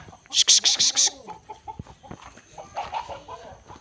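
A chicken on a Konkan farm during the rice harvest clucks in a quick, loud burst of five or six calls, then gives softer, scattered clucks nearby.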